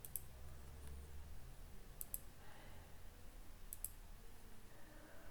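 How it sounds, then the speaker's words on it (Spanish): Left mouse button clicks on a computer running AutoCAD: a few faint, sharp clicks, two in quick succession, over a quiet room hum. "Lo voy a seleccionar con un clic izquierdo."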